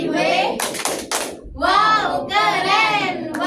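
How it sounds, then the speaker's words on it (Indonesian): Schoolchildren in a classroom chant loudly together while clapping a short burst of rapid hand claps in time with the chant, with voices dominating most of the stretch. "kita kasih tepuk wow untuk teman-teman kita"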